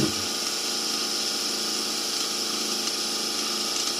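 A small homemade woodturning lathe, built from junk parts, runs on battery power with a steady, even motor hum and whir that holds constant and fairly loud throughout, with no talking.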